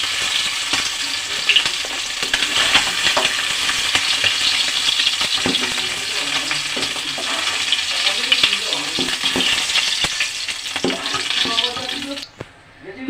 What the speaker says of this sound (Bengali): মাছগুলো লাল লাল করে এপিট ভাজা হয়ে গেছে।